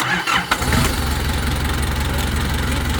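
A car engine starts and settles into a steady, loud idle, a close rumbling drone that runs evenly to the end with no talking.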